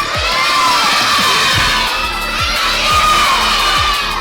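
A crowd of children loudly shouting their names all at once during a puppet show fun-time session at an abacus competition: a dense, overlapping, high-pitched chorus of voices that stays loud and continuous throughout.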